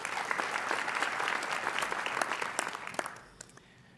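A crowd claps at a university undergraduate commencement ceremony, a steady wash of many hands that thins out and fades to a few scattered claps near the end.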